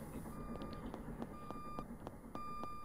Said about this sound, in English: but it's making the reverse sound.